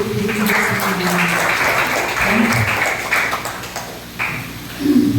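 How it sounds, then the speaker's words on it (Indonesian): Audience applause during a church talk, a dense patter of clapping that holds steady, dips briefly and swells again near the end, with tonal musical notes underneath. "Sudah selesai, tepuk tangan dulu."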